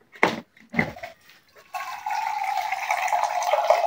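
Water runs and splashes steadily into a container as drinking water is poured in a home kitchen, a close, continuous trickle lasting about two seconds. Brief clatter and handling noises come just before it.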